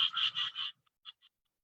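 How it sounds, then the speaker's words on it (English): A striped rocket frog from northern and eastern Australia gives a quick series of four sharp, high wick notes. A couple of fainter, shorter calls follow, heard close and alone. "first we have the striped rocket frog, which is from northern and eastern parts of Australia."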